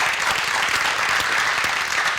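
An audience claps continuously in a dense, even burst of applause for a tree-planting initiative, heard on a live broadcast show.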